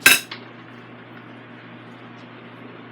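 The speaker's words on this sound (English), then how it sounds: "I want to cut it first and see the doneness of it." A knife and fork meet a plate as an air-fried ribeye steak is cut, a single sharp clink of metal on dish followed by a faint second tap, then quiet room hum.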